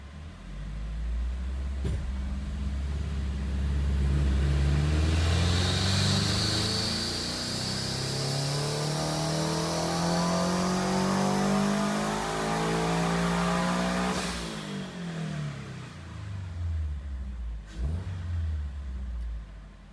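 A turbocharged Toyota GR86 running on E70 fuel revs up through a long, loud pull, engine pitch climbing steadily before dropping off, then a brief blip near the end, with no talking.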